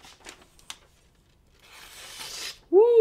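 Handmade Japanese white steel gyuto knife handled closely, with soft rubbing and scraping for a couple of seconds, then a bright, sustained metallic ring that rises loud at the end.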